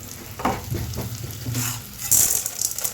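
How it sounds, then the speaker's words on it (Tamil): Vadagam frying in oil at the side of a pan for a chapati side dish, a steady close sizzle with stirring scrapes and a brighter hiss burst near the end. "இப்போ வந்து எண்ணெயை ஊற்றி அந்த சைடில் வந்து வறுத்துக்கலாம்"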